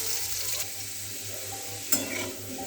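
Potatoes fry to a deep red in a pan, giving a steady, moderately quiet sizzle with a few stirring scrapes and a brief louder clatter near the end.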